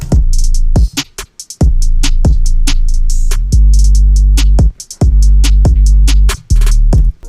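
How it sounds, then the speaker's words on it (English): A programmed FL Studio snare pattern with rapid rolls and crisp hits over deep bass kicks, loud and rhythmic with short gaps. "I went ahead and made this snare pattern."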